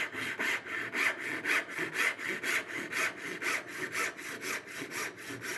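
Hand saw cutting angled dovetail kerfs into cherry hardwood, a steady rhythmic rasp of push and return strokes, roughly three strokes per second, close and clear with no talking.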